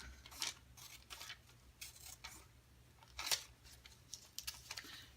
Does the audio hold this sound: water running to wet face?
no